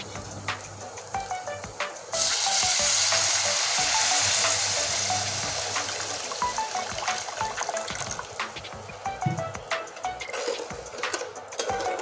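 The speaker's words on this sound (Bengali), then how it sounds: "এবার মশলায় দিয়ে দেব জল" Water poured into a pan of red-fried mustard-paste spice masala sets off a sudden loud, sustained sizzle and bubbling hiss, with small clinks of utensils and no talking.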